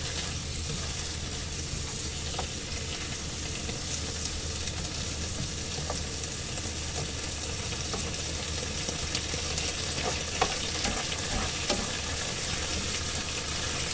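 Garlic fries in olive oil with balsamic vinegar in a pan, a close, steady hiss and sizzle that runs continuously with a few faint clicks and no talk.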